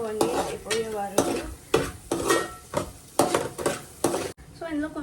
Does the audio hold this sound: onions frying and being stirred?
yes